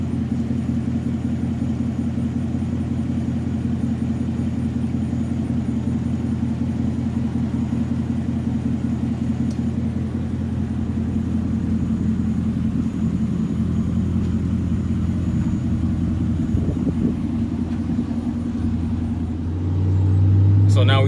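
A Lincoln Town Car engine drones steadily while driving, a low continuous rumble with road noise close by that holds through the run and eases near the end.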